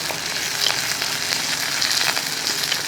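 Shallots, dried red chillies and curry leaves crackling in hot oil for a Kerala curry tempering, a dense, loud, steady sizzle up close with faint stirring and no speech.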